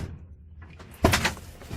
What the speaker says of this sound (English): Hang on, I'll shut the door.